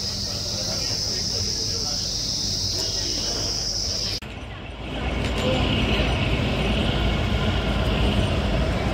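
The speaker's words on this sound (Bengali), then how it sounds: "ধরমপুর বরোকে থেকে ছেড়ে দিল আমাদের ট্রেন।" Kalka-Shimla toy train pulling out of Dharampur station in Himachal Pradesh, a steady loud rumble with a brief dip partway before the running noise swells again, recorded from on board.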